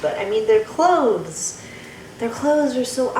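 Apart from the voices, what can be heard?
No distinct noise like a dog, phone or traffic.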